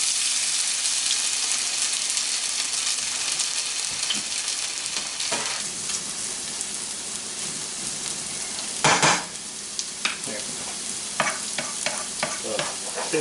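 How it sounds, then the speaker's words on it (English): Potatoes frying in hot vegetable oil for a Cuban frita, a steady loud sizzle with bursts of stirring and a sharper crackling flare near the middle, no voices. "once that vegetable oil heats up, we're going to take our potatoes,"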